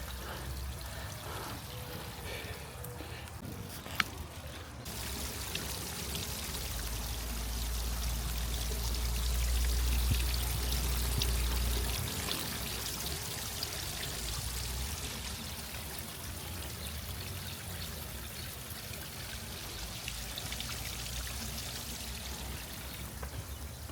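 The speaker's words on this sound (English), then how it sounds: "This water is flowing now." Water flowing in a garden pond, a continuous pouring and trickling wash that swells briefly in the middle and stays close and steady.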